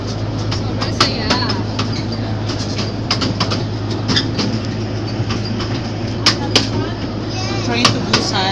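Sightseeing train at Dream World Thailand rolling along with a steady rumble and irregular clicking and clattering of wheels, heard from on board with people talking throughout.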